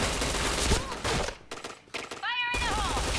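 Gunfire rattles in the first-person shooter PointBlank, with dense bursts and shots under a steady game soundtrack, broken by a short lull and electronic effect tones, close and loud.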